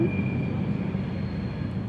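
A train passes through the Swiss mountains near Interlaken and Grindelwald, a steady low rolling rumble with a faint thin squeal held throughout, heard from a distance.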